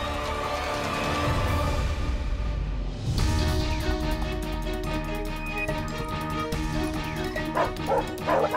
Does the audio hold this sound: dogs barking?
yes